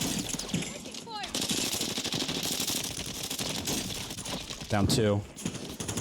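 Automatic weapon fire in a Call of Duty Warzone match on Rebirth Island, rapid bursts with distant shots, heard continuously beneath a player's excited voice.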